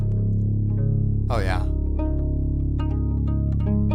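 A synth patch called fractured fiddle piz drops from a factory library plays sustained droning tones with scattered plucked accents and a brief swooping sweep, while someone talks briefly over it.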